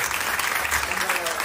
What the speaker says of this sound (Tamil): இவங்களுக்கு தான் கைத்தட்டுறேன்.